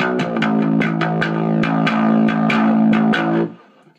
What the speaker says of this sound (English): Can you hear that distortion? That's clipping the signal there.